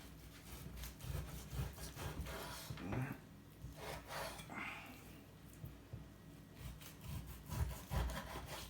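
A knife cutting a beef roast joint into chunks, with quiet, repeated sawing and rubbing strokes on a board, faint and close, with a few soft knocks.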